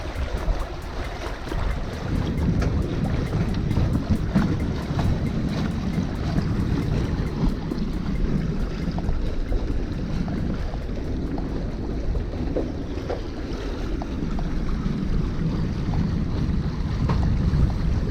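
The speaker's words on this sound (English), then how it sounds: "it's the northeasterly wind. It's bloody freezing." Cold northeasterly wind over a sailboat under way in autumn: a steady rushing roar with microphone buffeting and water noise, loud and continuous with no voices.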